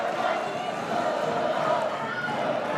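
Crowd at a women's water polo match between Hungary and Canada in a Budapest arena, a steady loud roar and cheer from the stands responding to the announcer, continuous throughout with a faint voice mixed in.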